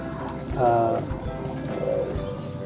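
A Volga pigeon coos close by in soft, throaty, rolling phrases, one around mid-clip and a shorter one near the end, over a low background murmur.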